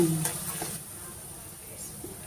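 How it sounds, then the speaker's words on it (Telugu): Tempering in hot oil with the stove just switched off, hing and spices for a bitter gourd pickle: a soft steady sizzle and crackle that fades slightly, close by, with brief stirring scrapes. "అన్ని స్టవ్ ఆఫ్ చేసిన తర్వాత వేసుకోవాలి ఆ నూనె వేడికి ఫ్రై అవుతాయి అనమాట"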